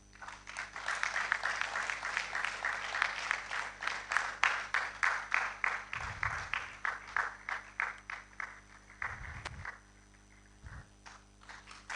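A room full of people applauds at a research awards and grants ceremony, steady dense clapping swelling through the middle and then thinning out toward the end.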